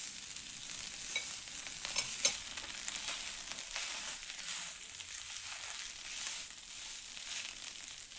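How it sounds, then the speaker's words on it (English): Softened onions mixed with tomato paste in a frying pan, giving a continuous soft sizzle with faint scraping of the spoon throughout, quiet and close with no voices. "Once the onions are softened, add 1 tablespoon of tomato paste and give it a good mix."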